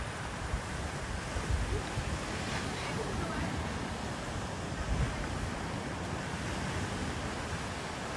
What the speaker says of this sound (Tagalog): narating na nga namin ang dagat ng Mingay